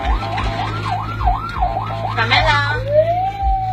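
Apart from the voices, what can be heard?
ambulance siren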